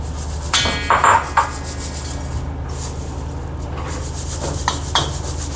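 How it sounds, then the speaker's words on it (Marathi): Dried shrimp sifted through a sieve produce scattered rubbing scrapes and light metallic taps, with a few sharper knocks early on over a low background hum. "झिंगे आता मी चाळून घेते"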